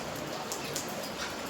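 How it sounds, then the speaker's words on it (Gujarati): Light morning drizzle falling on a village yard in Gujarat, a soft constant patter with a few louder drops standing out, no talk over it. "ઝીણો ઝીણો ઝરમર વરસાદ આવે."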